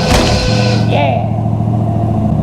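Car engine idling up near 1500 RPM after a battery replacement, a steady close mechanical drone with a brief higher whine near the start, heard under someone talking.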